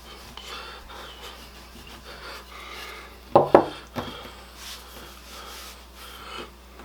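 A rolling pin works over laminated croissant dough on a floured surface, producing soft rubbing and muffled thuds, with a couple of sharper knocks midway amid quiet background.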